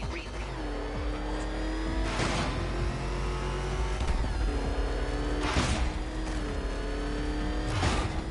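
The Batmobile in Batman: Arkham Knight roars with a loud, close engine that revs and surges through repeated bursts of acceleration, with tire squeals and a steady low rumble throughout.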